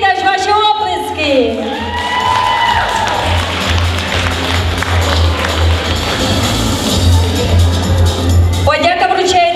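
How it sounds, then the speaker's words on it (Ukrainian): A crowd claps and cheers with a few whoops at a festival award ceremony. The applause stays steady for several seconds between bursts of an announcer's amplified voice at the start and end. "Ваші оплески!"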